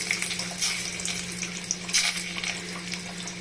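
Cumin seeds and garlic sizzle in hot oil for an egg curry, giving a steady hissing crackle with a few brighter pops over a low background hum, with no voices.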